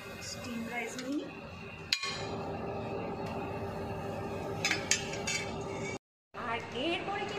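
Steamed rice is served at a Bengali buffet, with light clinks and taps of serving spoons against dishes and pans, a few sharp clatters over steady background chatter and restaurant hum.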